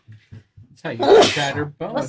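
A single sharp sneeze bursts out in a room amid casual conversation, with a person talking just before and after it.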